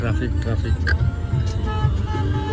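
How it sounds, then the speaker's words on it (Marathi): A street traffic jam with short car horn toots and honks over a rumbling engine background, horns sounding a few times at mid-distance while people talk nearby. "जाम ट्रॅफिक आहे बाहेर."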